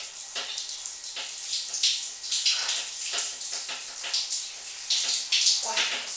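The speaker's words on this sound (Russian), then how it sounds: "Контрастный душ" A shower runs with a steady hiss of spraying water, rising and falling as the stream hits a body and the tiles, close and fairly loud.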